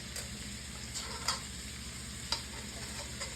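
Boiled potatoes for a singara filling fry in a pan with a continuous soft sizzle, broken by two or three brief clicks of a utensil, close and low in level.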